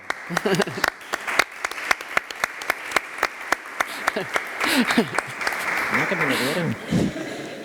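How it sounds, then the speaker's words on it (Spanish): A crowd applauds with sharp, rhythmic claps that blend into a dense patter, while a voice speaks briefly over it near the end. "Un aplauso, por favor."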